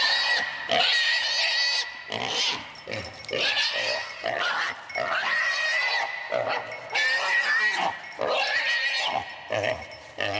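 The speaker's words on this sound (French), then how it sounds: "Il a rattrapé un sanglier plus petit que lui." Wild boar caught by a hunting dog, a fox terrier crossed with a Brittany fawn hound, in a dense big-game hunting ground: loud, close squealing and grunting in repeated bursts mixed with yelping and barking.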